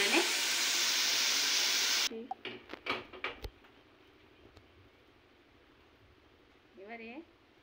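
Vegetables frying in a pan for a Bengali fish dish give a loud, steady sizzle for two seconds, then it cuts out into a few clattering stirs and a brief voice near the end.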